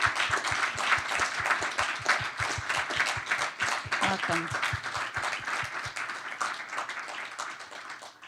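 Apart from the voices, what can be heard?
applause welcoming new engineering faculty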